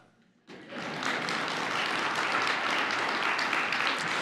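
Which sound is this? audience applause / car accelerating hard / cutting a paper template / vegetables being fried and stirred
audience applause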